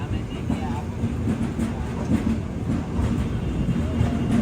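The Shraddha Sethu Express rolls into Villupuram railway station, a loud steady rumble of wheels and carriages with faint clickety-clack and occasional squeals, while voices murmur on a crowded platform.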